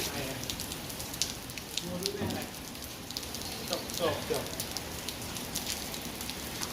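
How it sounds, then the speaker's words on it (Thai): Steady broadband patter of rain falling on a surface at a horse stable, with scattered drop ticks throughout and a faint voice murmuring briefly in the background. "วันนี้ฝนตก"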